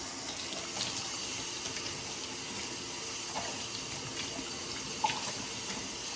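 Tap water runs steadily into a sink while clothes are washed by hand at home, a constant moderate splashing stream with a few faint clinks, no talking.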